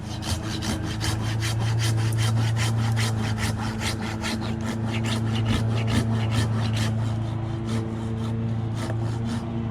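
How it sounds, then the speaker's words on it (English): Handsaw cutting through an oak limb in steady rhythmic back-and-forth strokes, close and fairly loud, with a constant hum underneath and no talking. "I'm gonna cut this off with a handsaw"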